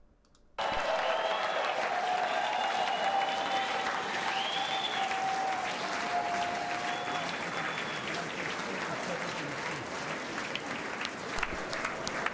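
Sustained applause from a large chamber audience during a State of the Union address, a dense steady wash of clapping that holds loudly for about twelve seconds, with faint voices mixed in.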